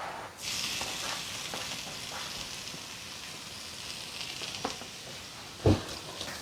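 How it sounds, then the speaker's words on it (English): Beets and onion fry in a pan with a steady, soft sizzle running throughout, broken by a few light stirring scrapes and one brief louder knock near the end. "you can put some carrot and fry together with onion and beets"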